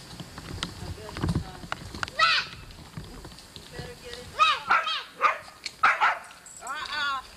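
Dogs playing together in 1987 Missouri give several sharp yips and barks in quick bursts, close by, while people talk over them and footsteps or clatter sound in the background.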